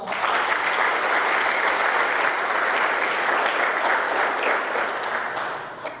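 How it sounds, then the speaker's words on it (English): Dense, sustained applause from an audience at a high school JROTC military ball, a steady loud wash of many clapping hands that holds for six seconds and only starts to thin at the very end. "Let's give them another round of applause."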